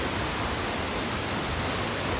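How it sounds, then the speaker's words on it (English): A large frozen waterfall on Iceland's south coast produces a dense, steady roar of falling water, loud and unbroken throughout with no voices over it. "that's a big waterfall."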